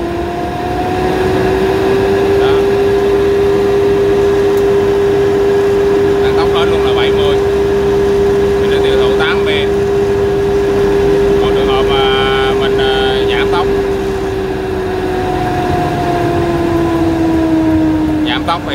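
Motor of a cotton-blowing machine for stuffing pillows and quilts runs on a variable frequency drive, a steady loud whine that holds one pitch and slides down near the end, with a person talking over it.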